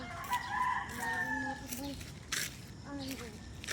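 Chickens cluck and a rooster crows nearby, with a person speaking over the birds throughout.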